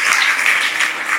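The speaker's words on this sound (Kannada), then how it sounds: "ಜೋರಾಗಿ ಚಪ್ಪಾಳೆಯ ಮುಖಾಂತರವಾಗಿ" Audience applause at a Shiva katha religious discourse in Yadur, a dense burst of many hands clapping loudly and steadily throughout.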